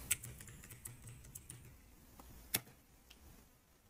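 Light, sparse keystrokes on a computer keyboard while login credentials are entered, a few scattered clicks with one sharper tap, quiet and close with no talk.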